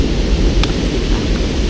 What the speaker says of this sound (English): You get that rumble from the water coming down.